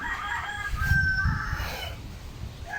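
A rooster crows close by, a long cock-a-doodle-doo with a few clucks around it, set against a low outdoor rumble near a hut.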